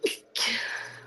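A single close sneeze, a short sharp intake followed by an explosive burst, heard indoors with a faint steady hum in the background.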